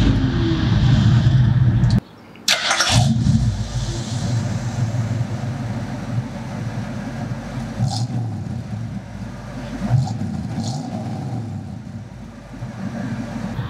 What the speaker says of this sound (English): Fires right up, no pedal in the gas, not more than one crank, and she's off.